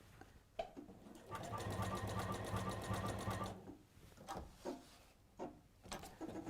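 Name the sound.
sewing machine sewing bulky Bargello wall hanging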